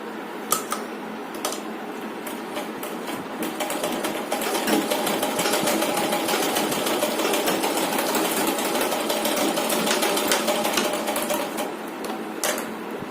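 Domestic sewing machine stitching fabric, a loud, close, continuous rapid mechanical whirr and clatter that builds and holds steady for several seconds before slowing, with a few sharp clicks at start and end and no talking.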